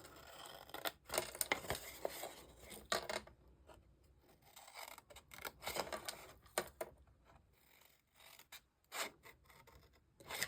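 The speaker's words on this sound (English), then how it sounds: "I'm going to cut from the bottom to the score line for every single one." Scissors snip through patterned paper for a fall hand sanitizer box, cutting from the bottom edge up to a score line, giving a run of close, crisp rasping cuts in bursts with short pauses between strokes, no voices.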